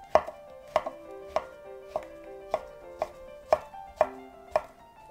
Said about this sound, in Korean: 표고버섯도 이렇게 썰어주세요